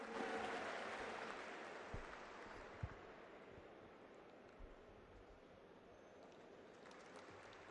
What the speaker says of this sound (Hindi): जोरदार तालियां संजय सिंह जी के लिए।